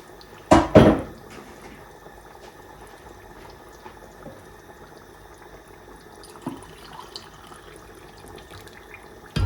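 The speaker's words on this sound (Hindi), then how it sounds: "और बॉईल पानी इसमें डालने हैं" Boiled water from a kettle splashes briefly into a cooking pot, followed by quiet bubbling and faint kitchen clatter.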